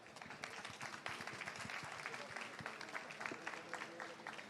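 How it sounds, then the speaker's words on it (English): A big round of applause for panelists at a COP30 session on food production, continuous crowd clapping that stays full and steady throughout. "a big round of applause to the panelists."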